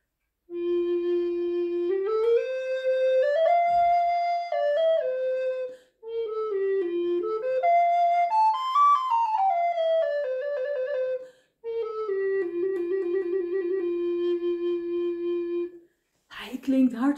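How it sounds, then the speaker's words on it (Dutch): A second-hand recorder bought at a thrift shop plays a clear solo melody in three phrases with brief pauses between them, the notes pure and close, ending with a short handling noise. "Hij klinkt hartstikke goed. Wow, mooie fluit is dit."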